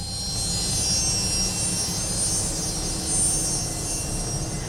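A Fokker 70 jet, the Kenyan presidential aircraft, gives off a steady, loud engine roar with a high whine on top, constant throughout and with no talk.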